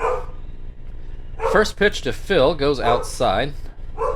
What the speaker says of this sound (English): Apologies if you can hear my dog barking in the background.